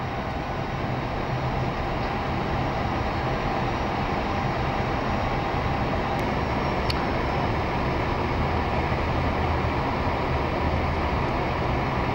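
Vueling A320-200 airliner landing on runway 25 left, heard from inside as a steady, loud broadband roar of engines and airflow with a faint tonal hum underneath, continuous throughout with no talk.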